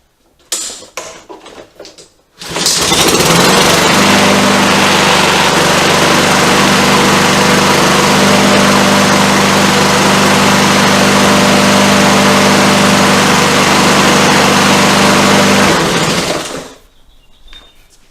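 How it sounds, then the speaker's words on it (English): A lawn mower engine under repair starts with a few pull and clatter sounds, then catches and runs at a loud, steady, close roar for about thirteen seconds before shutting off and winding down. "We can start this mower and get it ready for the next step."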